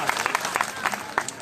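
Crowd clapping at a live outdoor gathering of D.El.Ed students in Lucknow's Eco Garden, heard as a steady patter of applause with sharper bursts of claps, fairly close and continuous throughout.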